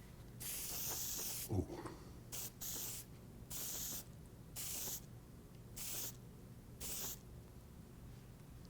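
Short hissing bursts of spray paint on a composite propeller's carbon tip repair, about six even passes with brief pauses between, close and fairly soft; someone briefly exclaims.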